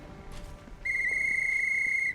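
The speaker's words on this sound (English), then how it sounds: "Pulling his whistle decorated with runes from his pocket, the dwarf brings it to his lips and produces a high-pitched trill." A dwarf's rune-decorated whistle in the Pathfinder game gives one sustained, piercing high trill lasting over a second, clear above a low ambient background.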